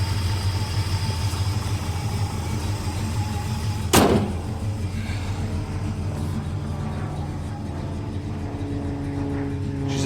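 A 1978 Ford F-250 engine runs steadily after a cold start, a continuous mid-pitched idle with a faint rattle, interrupted once by a sharp clunk like a door or hood closing partway through.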